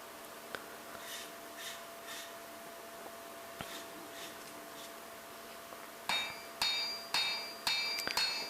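Hammer blows forge edge bevels on a parang blade, first as spaced lighter taps, then as a run of sharp, ringing metallic strikes in quick rhythm, close and alone.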